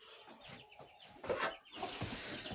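Several chickens cluck and murmur together nearby in a village barn at dawn, a busy overlapping chatter of short calls with rustling in between.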